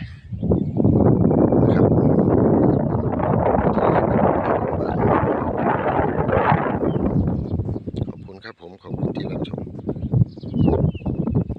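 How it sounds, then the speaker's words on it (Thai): Cool wind gusting across an open rice field in the morning, a steady loud rushing with buffeting against the microphone, dipping briefly near the end before picking up again. "ลมเย็นสบายครับลมเย็นสบาย"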